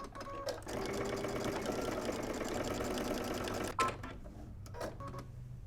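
A sewing machine understitches close to a facing seam in one steady run of about four seconds, then stops, leaving a few light clicks and handling sounds, near and moderately quiet.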